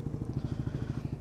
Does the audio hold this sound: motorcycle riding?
yes